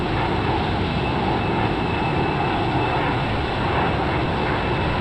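An F-15EX jet in flight, slowing on approach for landing at Salt Lake City, gives a steady, loud roar of engine and wind noise heard from inside, unbroken for the whole span.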